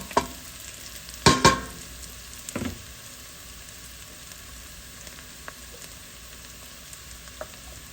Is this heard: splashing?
no